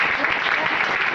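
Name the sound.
audience applause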